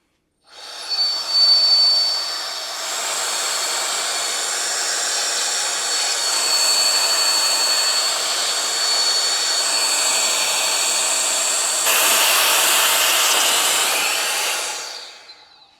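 A COWRC parts and chassis cleaner blowing over a Synchro RC car on a workbench, a continuous loud airy hiss starting abruptly and holding steady for about fourteen seconds before cutting off, close, no talking.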